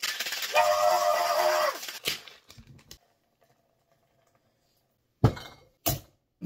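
Ice rattles hard inside a cocktail shaker for about two seconds, a dense loud clatter. Near silence follows, then a few sharp knocks and taps.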